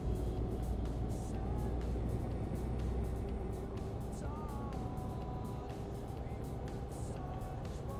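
A car driving at 90 km/h in the driving game On The Road, with a steady engine drone and road rumble continuing throughout at an even level, with no talk over it.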